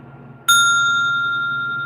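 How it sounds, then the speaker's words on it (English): A bell is struck once, giving a sudden bright ding whose clear ringing tone slowly fades out over a quiet, low background hum. "Ring the fucking bell."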